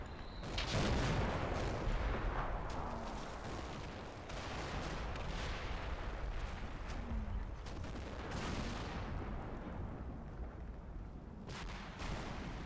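Game gunfire rattles through a firefight along a bridge in the Combat Mission Final Blitzkrieg Stavelot battle, with dense bursts, rumbling booms and scattered sharp cracks continuing loudly throughout.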